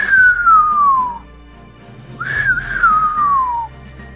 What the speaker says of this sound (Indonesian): dari mulut pendekar 212 Wiro Sableng keluar suara siutan keras yang disusul dengan siulan tinggi tak menentu luar biasa